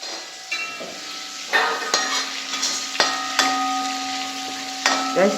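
A wooden spoon stirs tapioca with homegrown turmeric, green chillies and onion in a pot, giving repeated knocks and scrapes over a soft hiss of cooking, close and clear without speech.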